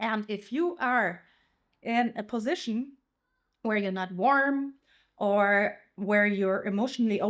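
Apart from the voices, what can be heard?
No everyday noise stands out behind the speech.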